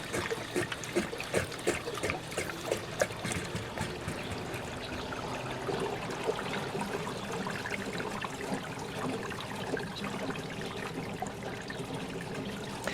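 Water gushes out of a swimming pool filter's backwash discharge, carrying chunks of debris, as a steady close splashing and trickling flow that runs without pause.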